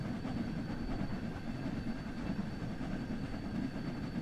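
A simulated train rumbles along in Train Sim World 6, a steady low rolling drone with faint rhythmic clatter throughout, fairly loud and continuous with no talking.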